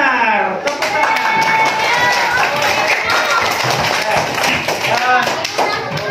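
A primary school class clapping their hands on the teacher's cue during a maths lesson, quick rhythmic claps near and loud, mixed with children's voices throughout.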